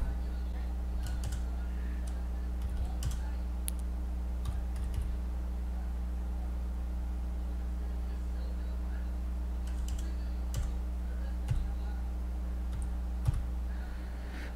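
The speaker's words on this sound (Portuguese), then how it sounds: "aqui vocês vão digitar o CNPJ de vocês" A number is typed on a computer keyboard in soft, scattered clicks, faint against a steady low hum, with a few sharper keystrokes near the end.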